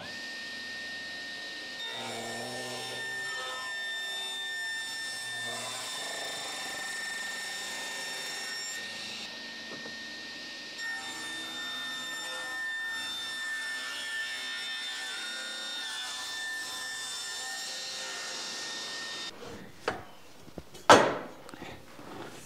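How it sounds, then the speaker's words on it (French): Circular saw fitted with a large-gulleted rip blade, cutting solid wood along the grain: a sustained high whine under load that runs steadily, then breaks into a few sharp, louder bursts as the cut ends. "le délignage, c'est dans le sens du fil, et c'est important d'avoir une lame qui a des grands creux"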